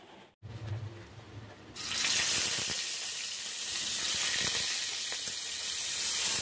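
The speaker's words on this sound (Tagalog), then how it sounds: "Tara, iprito na natin yung ating bangus" Marinated milkfish (bangus), squeezed with calamansi, drops into hot oil and sets off a loud, steady sizzle that fills the scene after a short quieter stretch, close and continuous.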